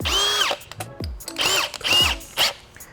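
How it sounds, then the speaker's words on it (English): A power drill whirs in several short bursts, spinning up and down as it buzzes lightly against metal while deburring a drilled hole, close and loud. "all you do is buzz it real light, like that"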